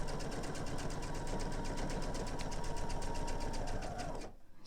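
A sewing machine stitches a quilt binding seam in a steady, fast mechanical patter that runs close and continuous, then stops abruptly near the end.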